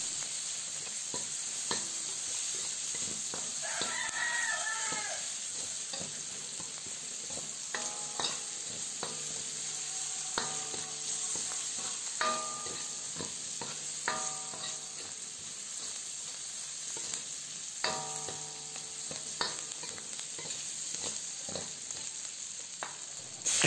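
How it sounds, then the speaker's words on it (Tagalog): Onion and garlic sautéing in a pan while being stirred, a soft steady sizzle with intermittent scraping and clinking of a utensil against the pan. "Gisayin lamang natin ito ng 1 minuto or hanggang sa maluto na ang sibuyas at bawang"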